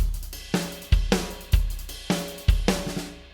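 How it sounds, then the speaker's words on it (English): The 2018 drum beat: a steady, driving groove of deep kick thumps and crisp snare cracks repeating about every second, backed by a shimmering cymbal wash, played loud and close with no voices. "And the 2018 drum beat's something more like this."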